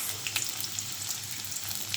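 Steady crackling sizzle of onions frying in hot oil in a wok, close and continuous with small bursts of popping, no voices.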